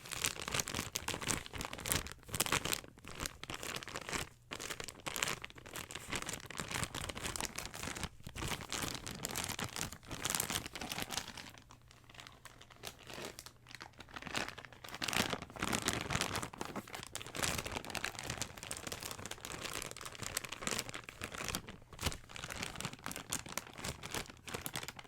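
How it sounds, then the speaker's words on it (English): A plastic bag holding McDonald's toys crinkles and rustles up close in irregular bursts. Handling goes on almost continuously, with brief quieter pauses. "I kept these in the bag because it actually makes really nice crinkly noises"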